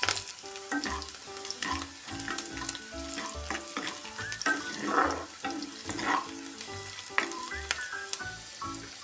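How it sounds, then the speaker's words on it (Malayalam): Chopped garlic and ginger sautéing in a pan for a Kerala-style moru curry, a constant close sizzle and crackle with stirring scrapes and clinks throughout. "വെളുത്തുള്ളി, പിന്നെ ഇഞ്ചി അരിഞ്ഞ്, ഇതെല്ലാം കൂടെ ഒന്ന് വഴറ്റിയെടുക്കാം"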